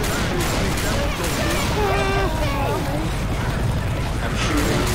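Rapid, continuous gunfire in the zombie shooter game Left 4 Dead 2, dense and loud throughout, with mechanical clatter layered over it.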